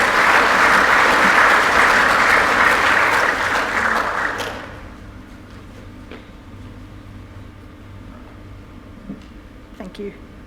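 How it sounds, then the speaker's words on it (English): An audience at a talk on cultural and prescribed burning claps loudly and steadily for about four seconds, then the applause fades and cuts off, leaving a quiet hall with a faint hum and an occasional small knock. "Everyone, a big round of applause for Dr."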